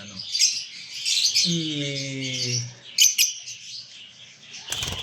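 Small bird chirping close by in bursts of high, scratchy calls, with a brief low hum partway through and some handling noise.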